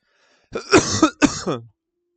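A person coughs and clears their throat in two close, loud bursts, with no talking around them.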